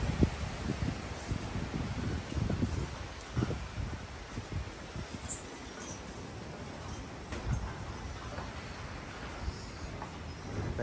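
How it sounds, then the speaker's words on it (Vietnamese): Strong wind gusting through a large orchid garden, a steady broadband roar with rustling and irregular buffeting across the whole stretch and no speech. "thông qua cái video này chắc các bác cảm nhận được cái độ rít của gió khủng khiếp luôn"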